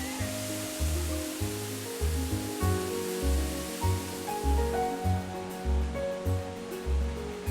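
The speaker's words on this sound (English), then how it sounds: "Beautiful waterfall." Lookingglass Falls in Pisgah National Forest near Brevard pours about 60 feet in a sheer drop into a pool, giving a steady, full rush of falling water with a pulsing low rumble throughout.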